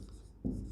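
Chalk or marker scrapes briefly on a board during a physics lecture, a short, soft scratching stroke that grows slightly louder near the end.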